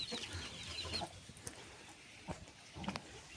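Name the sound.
roosters and hens clucking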